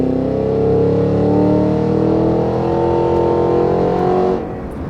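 A Cadillac Escalade V ESV in V mode accelerates hard onto a freeway, its engine note a loud, steady, rising roar heard from inside the cabin that drops away abruptly near the end.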